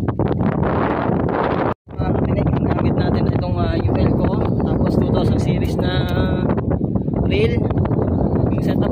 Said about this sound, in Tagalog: Sobrang hangin kasi dito sa Roro, ay sa Pier.